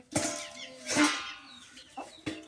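Chickens in a home courtyard cluck in a few short, close bursts, the first two longer and louder, followed by two brief clucks, with no talking over them.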